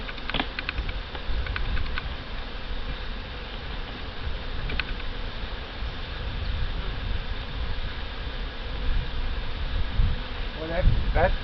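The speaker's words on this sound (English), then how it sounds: "A lot of bees in there. A lot of bees here." Honey bees buzz in a dense, continuous drone at an open hive during a mid-July inspection, close and steady, with occasional clicks and someone speaking over them.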